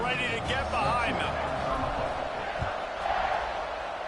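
A stadium crowd at a football kickoff roars and cheers in a broad swell of massed voices that rises and falls, with an announcer talking over it.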